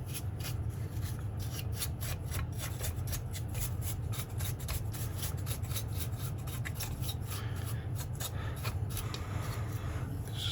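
Brush dusting crud off the circuit board of a vintage 1970s A/DA Flanger, rapid scratchy bristle strokes in a steady rubbing rhythm, close and quiet with no talking.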